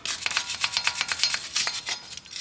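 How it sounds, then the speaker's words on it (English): A wire brush scrubs rust off a front brake part on a 2007 Toyota Highlander Hybrid, rapid, gritty back-and-forth strokes in a quick rhythm, close and fairly quiet, with no talking. "Let's get a wire brush and get all this rust off."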